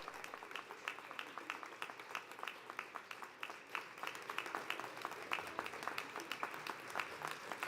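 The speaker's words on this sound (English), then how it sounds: "give them a wonderful applause and thank you" Sustained applause from a college commencement crowd, dense overlapping claps at steady volume, with a few faint cheers mixed in.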